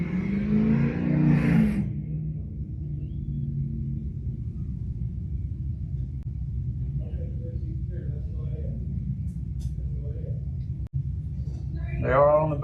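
Thirteen Allison legacy race cars rumble steadily on an oval track, a continuous low engine drone that swells slightly toward the end, with a voice talking briefly at the start.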